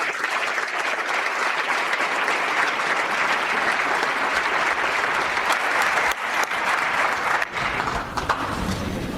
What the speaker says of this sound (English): I'm thinking this got his loudest applause, too, because it was bipartisan.